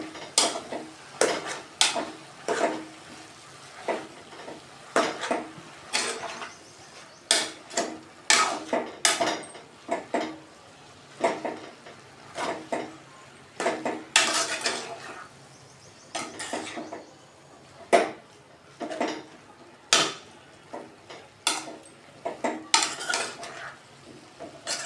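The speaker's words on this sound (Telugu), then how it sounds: "ఒకసారి కలుపుకుందాం" A metal spoon stirs food in a cooking pot seasoned with dried red chili powder, scraping and clinking against the sides in a steady series of sharp, close strokes over more than twenty seconds, with no talk.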